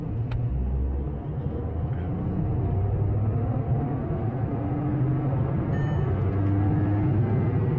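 A Škoda Kushaq 1.0-litre three-cylinder manual car accelerates hard in second gear, a steady, muffled engine rumble heard from inside the cabin with a constant low drone and road noise.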